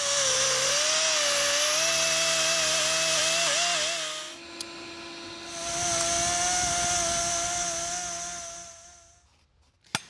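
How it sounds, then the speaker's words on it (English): An air die grinder with a 40 grit cartridge roll smooths an aluminum intake manifold runner, a loud sustained high whine that dips in pitch mid-way, briefly drops, spins back up, then winds down. "go ahead and swap out the burr for a 40 grit cartridge roll"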